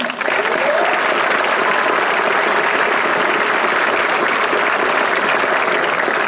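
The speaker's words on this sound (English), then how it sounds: "Give them a round of applause." Sustained, dense applause from a large crowd at a high school graduation ceremony, steady and loud from start to finish.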